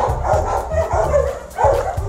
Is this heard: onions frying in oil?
no